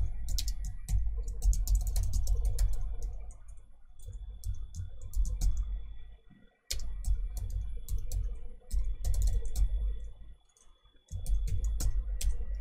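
Keyboard typing while entering code for a basic Node.js web server, rapid clustered clicks in bursts with brief pauses, close and fairly clear, no talking.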